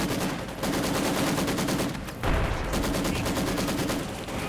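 Maxim machine gun fire in Company of Heroes 2, fast rhythmic bursts of rapid shots rattling continuously with a brief pause and heavy low thumps of explosions mixed in, loud and dense.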